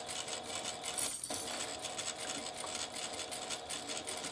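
A sewing machine stitches a seam on a fabric wristlet, running as a steady, close, rapid mechanical whir with a brief pause near the middle, and no talking.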